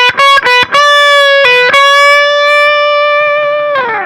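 Distorted electric guitar line from a song, a few quick picked notes followed by a long sustained bending note that rings out, then a slide at the end, played alone with effects.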